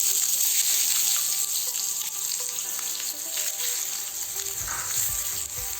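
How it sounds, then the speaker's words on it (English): Onions sauté in hot oil in a pan, a loud continuous close-up sizzle and hiss running throughout, with faint stirring and no talking. "Saute them very well to nice golden brown."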